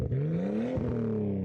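A Nissan GT-R engine revving, heard close behind the rear exhaust: the pitch climbs, drops briefly, then climbs again into a sustained rev, loud and alone without talk.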